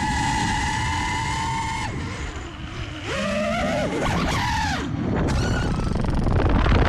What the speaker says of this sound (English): the camera coming loose and then falling into the propellers and putting the quad into a spin